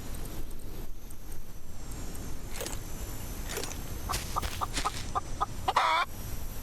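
A chicken in the Solarpunk video game clucks in a few short, bright bursts over a steady ambient background, growing louder and busier near the end of the stretch.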